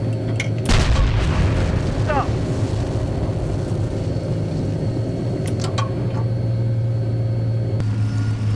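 Tank main gun fires in the Steel Beasts Pro PE simulator: one heavy boom early on, followed by a constant low engine rumble and some fainter distant impacts, with no talk.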